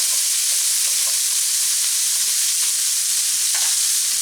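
Onion and celery sizzling in a pan with meat drippings, a loud, steady hiss of frying with a few faint scrapes as the vegetables are stirred, no voices.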